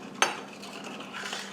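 A spoon stirs raisins into a mixture of liquids and apple juice in a cooking pot, opening with one sharp metallic clink, then soft scraping strokes, all quiet and close.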